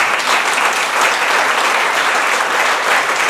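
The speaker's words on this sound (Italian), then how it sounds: "Fatemi un applauso" Full, steady applause from a concert audience at a live blues club show, loud and dense with no break across the whole stretch.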